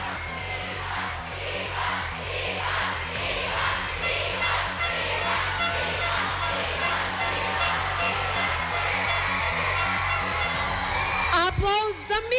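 A studio audience at the Macedonian Idol final cheers, whoops and applauds loudly as a finalist walks onto the stage. The crowd noise is dense and continuous throughout, blended with music.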